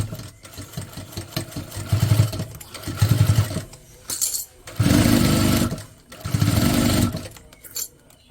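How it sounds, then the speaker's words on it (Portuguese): Sewing machine stitching a fabric toiletry pouch, running slowly in loud mechanical bursts separated by short pauses. "vou costurando devagar"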